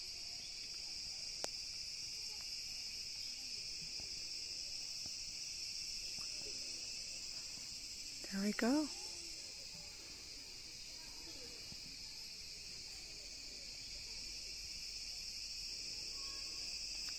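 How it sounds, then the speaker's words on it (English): Crickets chirp steadily in a Penang rainforest, a continuous high shimmering drone filling the background, with footsteps, faint rustling and a brief spoken phrase midway. "Make sound by stridulating, rubbing its wings together."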